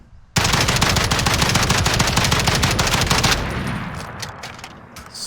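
A FAL rifle fires a rapid, loud continuous burst in Call of Duty Warzone, then cuts off into a fading echo with a few faint clicks.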